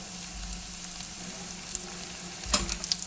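Mustard seeds, cumin and chopped shallots fry in hot oil with a steady, quiet sizzle, broken by a few scattered sharp pops and crackles toward the end.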